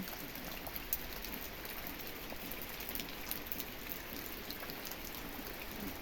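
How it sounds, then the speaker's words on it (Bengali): Heavy rain falls steadily in the dark early morning, a dense continuous hiss of drops on surfaces with no letup, moderately loud and unbroken by voices. "এখন সাড়ে পাঁচটা বাজে কি বৃষ্টি হচ্ছে অন্ধকার একদম"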